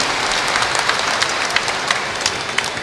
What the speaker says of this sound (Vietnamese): Chúng ta cùng cho nhau một tràng pháo tay để chào mừng và chúc mừng nhau.